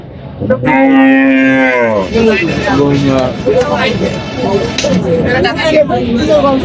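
A cow at a busy livestock market lets out one long, loud moo close by, then a crowd of traders' voices talks over the rest.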